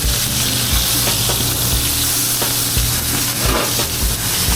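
A fish fillet sizzles loudly in a hot pan as it is turned, a dense, close frying hiss with a few soft knocks underneath.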